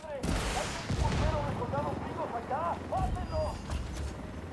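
Gunfire in a video game firefight at a rail yard, a loud, rolling stretch of shots and echoing blasts while several voices speak over the noise.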